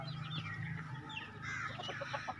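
Chickens of many breeds cluck and chatter softly on a farm, a few sharp clucks rising out of a low, distant background murmur, with no one talking.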